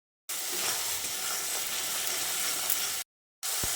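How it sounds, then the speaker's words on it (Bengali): Spice paste for a vegetarian potato and soybean curry fries in a pan while being stirred, a loud, continuous close sizzle that cuts out abruptly to silence briefly before resuming. "3-4 মিনিট সময় ধরে ভালো করে মশলাটাকে কষিয়ে নিতে হবে"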